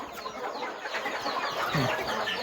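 A mother hen raising a brood of about fifty chicks clucks briefly at close range in an evening farmyard, a short, steady burst of clucking with no talk.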